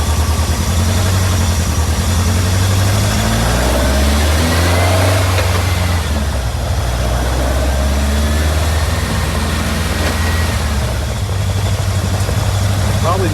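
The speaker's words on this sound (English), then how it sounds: "I don't know why it's revving up like that. It's not going back to idle for some reason" A VW Beetle engine with freshly adjusted carburetors races at a high, fluctuating rev and never settles back to idle, loud and close, with a voice talking over it.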